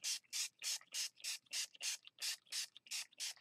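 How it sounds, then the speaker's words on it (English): Repeated short bursts of spray color mist over a rose stencil for a Bella Rose Garden journal, about eleven hissing pumps in steady rhythm, close and bright, with no talking. "We're going to spray."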